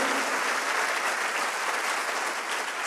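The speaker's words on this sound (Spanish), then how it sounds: "Vamos, dale un fuerte, fuerte aplauso." A church congregation claps strongly in steady, dense applause that fills the whole stretch at an even, loud level with no talking over it.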